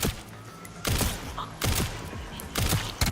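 Bursts of rapid gunfire from Leon Must Die Forever come in three dense volleys about a second apart, loud and close, with quieter game sounds in the gaps between them.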